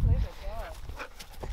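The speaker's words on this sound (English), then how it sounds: "This dog's come to visit us." A dog visiting outdoors gives a short whining yelp and a few soft yips nearby, mixed with people talking over it.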